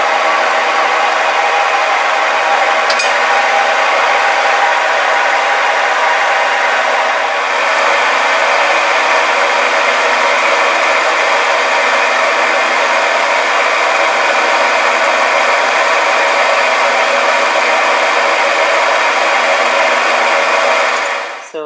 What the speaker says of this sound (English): I'm ready to go over to the mill and cut the key seats on the shaft.